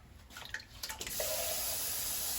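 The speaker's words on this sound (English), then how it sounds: "Take this can and fill it with water." Water from a tap running into an empty tomato can in a kitchen, a faint trickle first, then a steady, close pour that fills the can, with no talk.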